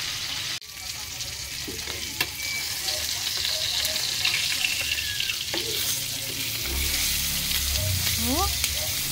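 Galunggong fish frying in oil with garlic, a dense, close crackling sizzle running throughout with occasional sharp pops and utensil clicks, and faint voices in the background.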